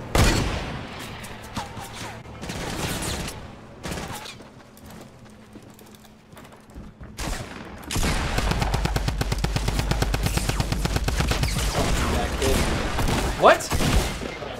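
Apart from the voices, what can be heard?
gunfire in a video game (Fortnite)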